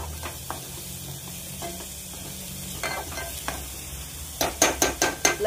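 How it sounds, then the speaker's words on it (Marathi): Masala for egg curry fries in oil in a pan with a soft, steady sizzle, scraped now and then by a utensil, ending in a quick run of louder stirring clacks. "हे पहा, आपल्या आता मसाल्याला छानसा तेल सुटत आहे।"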